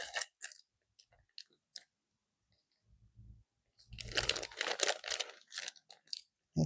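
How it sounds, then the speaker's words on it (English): Crinkly plastic packaging from an Amazon order of press-on nails being pulled and torn open, sparse crackles at first, then a dense burst of loud crumpling up close, with no talk. "If I can get the bag open"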